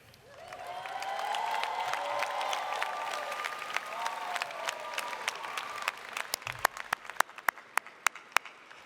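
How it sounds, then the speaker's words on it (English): High school graduates at a university spring commencement cheer and applaud. Loud cheering and dense clapping swell, then fade into a few isolated, sharp claps. "Will the members of the high school, the graduates, please stand up and cheer?"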